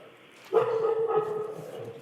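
A dog gives a single sustained bark or yelp that trails into a whimpering tone, heard nearby over quiet room murmur at a conservation commission meeting.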